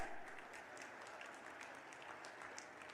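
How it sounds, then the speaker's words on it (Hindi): A rally crowd in Gwalior claps hard and continuously in a steady wash of applause that sounds somewhat distant and uniform throughout. "जोर से ताली बजाओ"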